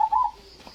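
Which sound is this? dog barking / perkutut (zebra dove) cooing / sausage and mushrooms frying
perkutut (zebra dove) cooing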